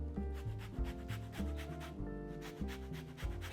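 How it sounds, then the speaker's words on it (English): Orange peel rubbed against a zester or grater for fruit cake, a close, quiet series of rasping scrapes in a regular back-and-forth rhythm, about five strokes. "And just zesting the orange and smelling the spices."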